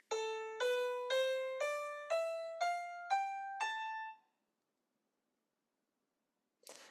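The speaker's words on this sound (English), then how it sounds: "So the natural minor scale sounds like this." Natural minor scale played on a keyboard, eight clear ascending notes in an even, steady rhythm, each struck and decaying, followed by silence and a brief onset of another sound at the end.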